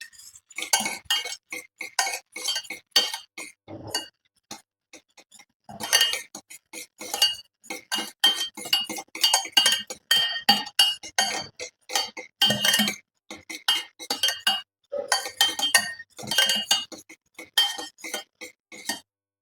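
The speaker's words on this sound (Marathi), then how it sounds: "इथे आपल्याला दही व्यवस्थित फेटून घ्यायचं आहे" Yogurt being whisked in a bowl for homemade chicken 65, with rapid clinking utensil strokes against the bowl in quick irregular bursts, close and fairly loud, with brief pauses between runs.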